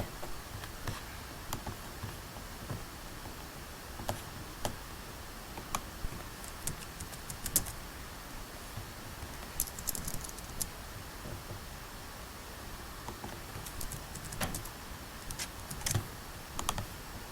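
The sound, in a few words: typing on a computer keyboard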